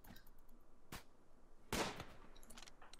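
Gunfire in the colony-building video game RimWorld, two sharp separate shots over a quiet low background, with a faint scatter of smaller ticks afterward.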